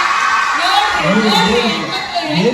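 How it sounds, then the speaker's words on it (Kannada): An event audience of women cheering and whooping with scattered applause, a loud, dense crowd roar with voices shouting over it. "ಬರ್ಲಿ ಜೋರಾಗಿ ಚಪ್ಪಾಳೆ ನಮ್ಮ ಎಲ್ಲ ಹೆಣ್ಮಕ್ಳಿಗೆ"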